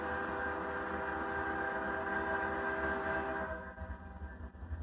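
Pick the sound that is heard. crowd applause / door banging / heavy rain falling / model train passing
model train passing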